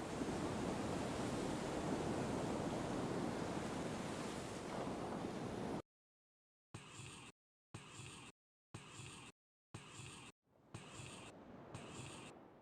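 Ocean waves in the video game Grandia 2 wash in a continuous loud surf roar for about six seconds, then return as short clipped bursts separated by silence.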